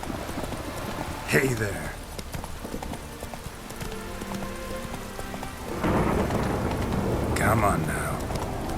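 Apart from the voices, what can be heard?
horse galloping, from video game The Witcher 3 Hearts of Stone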